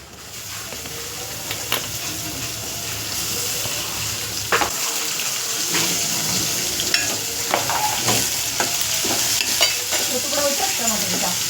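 Garlic cloves frying in a pan for sambar, a steady broadband sizzle running throughout with occasional stirring clatters and small pops, close and fairly loud.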